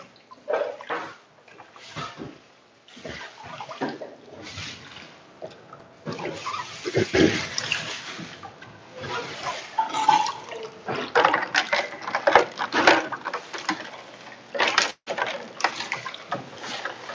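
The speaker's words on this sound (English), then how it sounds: "put them in nice water to chill them" Himokawa udon noodles being rinsed and swished in cold water, heard as steady, close splashing and sloshing with uneven bursts of running water throughout.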